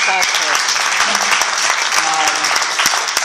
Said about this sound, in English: Give your guys a round of applause